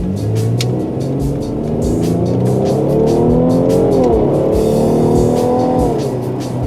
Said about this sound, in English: Beautiful engine sound